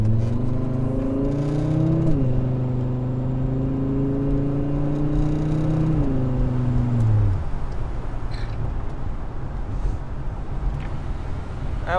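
Turbocharged 1996 Volvo wagon pulling hard from inside the cabin, engine drone rising steadily through two gear changes before easing off into road and tyre noise.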